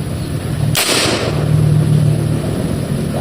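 A homemade PVC boga cannon fires one sharp, loud blast, followed by a quiet background hum with no talking.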